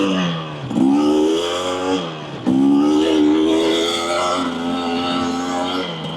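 A 2024 Husqvarna TE250 dirt bike engine revs up in two strong surges during little wheelies, then holds a buzzing, wavering drone close by.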